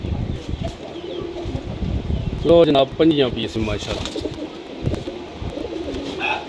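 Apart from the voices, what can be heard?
pigeons cooing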